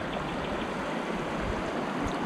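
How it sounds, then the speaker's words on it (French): A small river flows through a quiet spot in New Caledonia, giving a steady, close rush of running water with no voices. "Beau petit coin de rivière."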